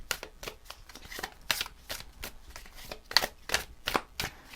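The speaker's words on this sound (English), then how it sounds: "And then you can give it a little shuffle." A deck of tarot cards being shuffled, giving repeated crisp riffling bursts in a steady rhythm, close and clear with no talking.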